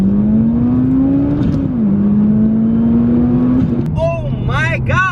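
A 1,000-horsepower Subaru WRX accelerating hard, its engine note climbing steadily through a gear, dropping at a shift and climbing again, loud and close; excited voices break in toward the end.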